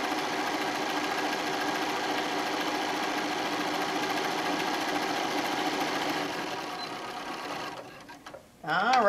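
A sewing machine backstitches fabric for a wine bottle bag, a steady close mechanical whirr that runs on, then slows and stops near the end before a short burst.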